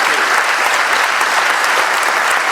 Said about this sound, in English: just a round of applause for Asif Kapadia